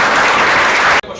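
An audience at an ethics presentation breaks into a loud, dense burst of applause for the judges. It fills the room and then cuts off sharply.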